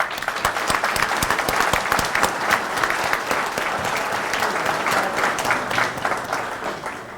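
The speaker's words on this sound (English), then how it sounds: "So please join me in saluting them with a round of applause." An audience at an installation ceremony gives a dense, steady round of applause with many hands clapping, sustained for several seconds and tapering slightly at the end.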